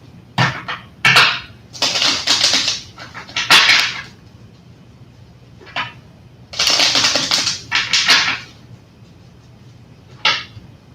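Playing cards shuffled close to the mic in bursts: several sharp riffle-and-bridge flurries of crisp, papery rattling with short pauses between them, loud and alone.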